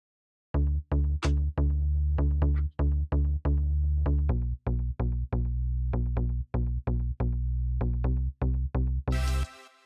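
A Nexus plugin synth bass plays in the break of an EDM track, close and clean, as a stream of short, punchy plucked notes in a quick, even rhythm, ending with a brief noise swell.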